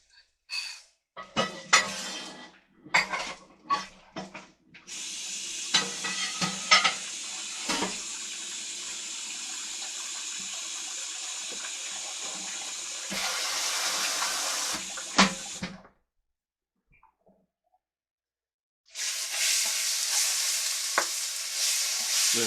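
Teriyaki-glazed cubed pork sizzles and fries in a pan with a thick sauce, a loud steady hiss broken by stirring clatter and short pauses, then dropping to near silence before the sizzle returns strongly.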